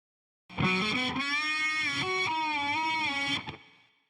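A distorted electric guitar phrase with swelling, reversed-sounding attacks and sustained bent notes, loud and continuous for about three seconds before fading out.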